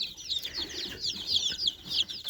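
Young broiler chickens and chicks cluck and peep in a rapid, overlapping chorus of high chirps, close by and moderately quiet, with no talking.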